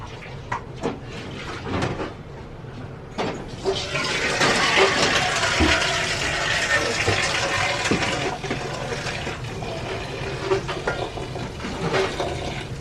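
Water leaf greens being washed in a bucket or basin of water in a home kitchen, with steady sloshing and splashing that swells midway and continues with small drips and clatter, close and moderately loud.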